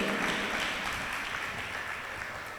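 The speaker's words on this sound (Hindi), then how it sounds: "एक बार ताली बजाओ उस बच्चे के लिए" An audience at a Jain sermon gives a soft, steady round of clapping for a small child, a faint, even patter heard from a distance.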